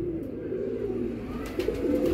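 A pigeon kept by a fancier coos in a steady, low, rolling murmur that runs unbroken and fairly close, with no talk over it.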